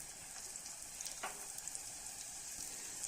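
Shallots, ginger and garlic sauté in coconut oil for a Kerala-style mackerel curry, giving a quiet, steady sizzle with a few soft stirring scrapes, close but faint.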